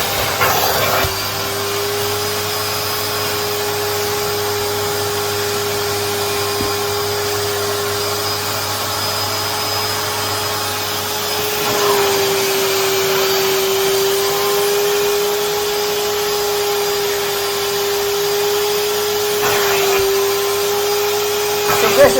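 A 2024 Numatic George vacuum cleaner with a spot-clean sprayer attachment drones steadily and loudly while cleaning a rug, a continuous close whine with slight shifts as the nozzle moves across the pile.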